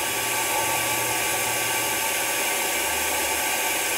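The built-in air assist pump on an Atomstack X20 Pro 130W quad laser engraver blows air through the nozzle. It makes a steady, loud, broadband hiss and whir with a faint low hum underneath, alone and without voices.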